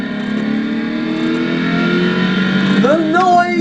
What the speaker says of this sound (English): The noise! Listen to that engine!